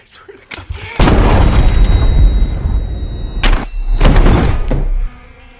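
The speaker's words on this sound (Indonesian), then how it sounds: "Si Abah pun melepaskan tangannya dari leher Manny. Saat si Manny mulai membacot, si Abah pun langsung menembak kepala si Manny" A gunshot to the head in the horror film Don't Breathe lands as a loud, close boom with a heavy low thud. A second sharp blast follows a few seconds later amid a booming film soundtrack.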